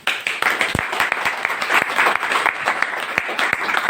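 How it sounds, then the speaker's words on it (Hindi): A crowd applauds at a business opportunity seminar in India, with sharp individual claps standing out over a steady bed of clapping that holds at fairly loud level from start to finish. "जल्दी एक बार तालियां हो जाए।"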